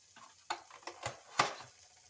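Chicken for fajitas cooks in a new pan, with faint sizzling under a few sharp stirring scrapes and clacks spaced through the short stretch, close and fairly quiet.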